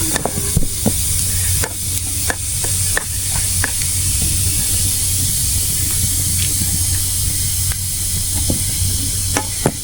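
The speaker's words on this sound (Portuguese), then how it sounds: "É o fogo que tá alto aí" A loud campfire burns at a wild jungle campsite, with a constant sizzling hiss broken by frequent sharp crackles and pops. It continues throughout, close and with no talk over it.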